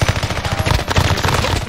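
Rapid automatic gunfire from a video game rattles continuously in loud, tightly spaced bursts with no pauses.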